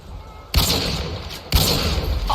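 Two loud, dense bursts of automatic machine-gun fire from a video game, each slamming in suddenly and sustaining for about a second, the first preceded by a quieter hiss of game ambience.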